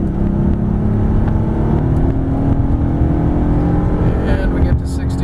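A 2012 Honda Pilot EX-L FWD SUV engine pulls under increasing throttle as VTEC engages, a loud steady drone heard from inside the cabin throughout.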